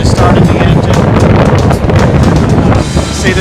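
Strong wind gusting to about 40 buffets the microphone in a continuous loud roar, with water and sailboat noise mixed underneath.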